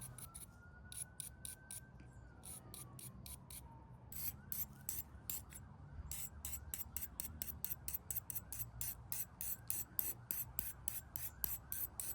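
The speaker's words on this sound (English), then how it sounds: "Taking the wire brush to it just to be able to smooth out" Wire brush scrubbing a rusty old lantern, rapid rhythmic rasping strokes, close and crisp, speeding into dense repeated scrapes.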